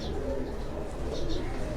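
A pigeon coos softly on a rooftop loft, low murmuring calls under a continuous background, with a person speaking nearby.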